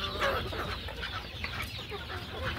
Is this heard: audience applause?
no